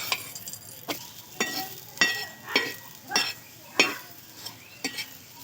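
Aloo paratha frying in oil in a pan, a soft steady sizzle broken by a regular series of scraping, stirring clinks from a spatula roughly every half second to second, close and moderately loud with no talking.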